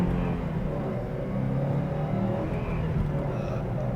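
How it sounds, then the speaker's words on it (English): A 2021 Subaru WRX STI with a turbocharged engine accelerates hard through the gears, a continuous low, throaty engine drone heard from inside the car. "row through the gears, feel that turbo boost"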